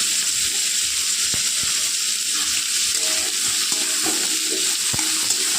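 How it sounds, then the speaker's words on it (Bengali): Kohlrabi, potato and beans frying in oil with salt and turmeric, a steady close sizzle with occasional scrapes and taps of a spoon stirring in the pan. "মামনি কি সুন্দর লাল লাল করে ওলকপি আলু আর বিনসগুলো ভেজে নিয়েছে"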